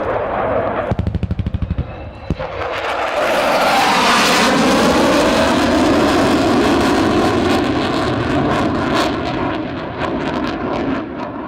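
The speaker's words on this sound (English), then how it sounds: "Here comes the Hornet." CF-18 Hornet fighter jet roaring overhead during a Canadian Forces combined exercise, rising to a loud sustained blast that swells and lingers, preceded by a burst of rapid gunfire.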